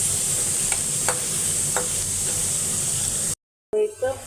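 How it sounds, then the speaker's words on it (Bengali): Dal being tempered in a hot pan, a steady loud sizzle with a few scraping stirs, then a brief cutoff before a burst of fresh sizzling and clatter; no one speaks. "ডালটা বাগার দিয়ে দিচ্ছি"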